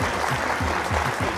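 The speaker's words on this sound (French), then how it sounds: "On applaudit très très fort" An audience at a Christmas 2020 stage show claps loudly and continuously, a dense, even wash of applause over a short span.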